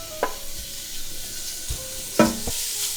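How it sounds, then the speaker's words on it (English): Pork belly searing in a little oil in a pan: a continuous hiss of sizzling with a few sharp clinks and scrapes, close up and without voices. "We'll add just a little bit of oil, and let's go in with our pork belly."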